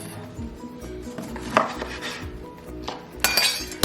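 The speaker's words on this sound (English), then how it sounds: "I am going to cut this lemon in half" A knife cuts a lemon in half on a board, a few sharp close taps and clinks over a low kitchen hum, with no talking.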